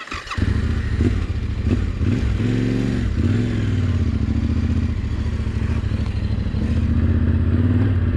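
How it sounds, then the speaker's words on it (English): A motorcycle engine fires up and settles into a loud, steady running rumble, with a few uneven revs and some clattering early on. "Need to start the motorcycle."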